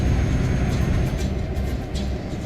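A freight train rolls past in Euro Truck Simulator 2: a steady, loud, close rumble of rail cars with rhythmic wheel clatter and low-end roar throughout, no voices.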